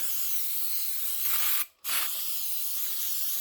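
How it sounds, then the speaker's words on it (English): Steady hiss of an aerosol spray on a Stihl 038 Magnum chainsaw, close and constant, briefly cutting out for a moment before resuming just as strongly. "I am going to spray this out before we crack the seal"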